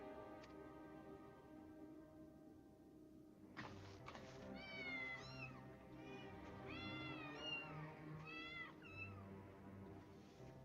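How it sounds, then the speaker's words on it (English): Several kittens mew in a Final Fantasy XIV Dawntrail cutscene, a cluster of high, rising and falling meows over a soft steady musical and ambient bed, quiet overall. "Kittens are trying to help."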